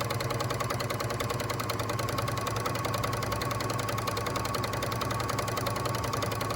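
A Bernina L450 overlocker runs at steady speed while sewing and gathering fabric ruffles, giving a continuous, close mechanical whir with a fast rapid stitching rhythm and no pauses or voices.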